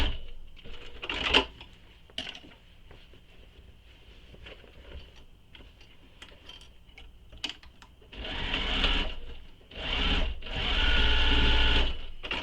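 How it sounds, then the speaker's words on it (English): A sewing machine runs in several bursts while stitching the linings of a Betty Bow Bag, with quiet handling between short runs and longer sustained whirring toward the end, heard close up. "And then I'm going to stitch the linings"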